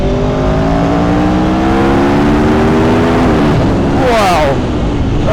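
A 2018 Aprilia Tuono V4 1100 Factory motorcycle's engine pulls hard at high revs, its rising whine climbing steadily under heavy rushing wind noise, then shifting and surging again near the end, loud and close throughout.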